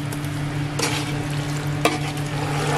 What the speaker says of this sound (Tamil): One more time mixing.